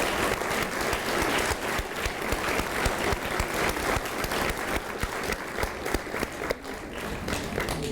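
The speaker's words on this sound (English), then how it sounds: "Let's give one more round of applause to all of our honorees." A large audience gives a sustained, even round of applause for honorees at an elementary school awards night, the dense clapping filling the whole stretch without a break.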